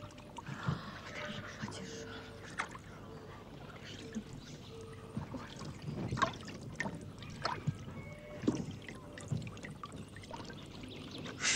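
Water splashes and pours in bursts while a pet is washed with soap in a harem setting in the 1996 period drama about Roxelana, with people talking over the sloshing throughout.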